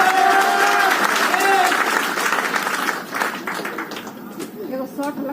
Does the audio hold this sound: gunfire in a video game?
no